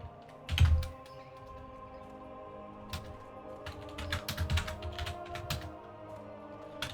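Someone types on a computer keyboard during a World of Warcraft Classic session, giving faint irregular clicks with a few louder thumps over low game background noise.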